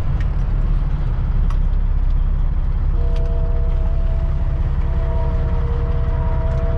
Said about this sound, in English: You guys hear honking? Oh, there's a train over there.